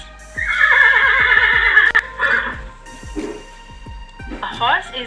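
A horse whinnies loudly and close, a long shrill neigh followed by shorter snorting calls, with hoof clip-clops ticking underneath and a person speaking briefly.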